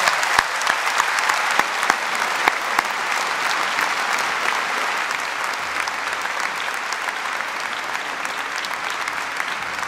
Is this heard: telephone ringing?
no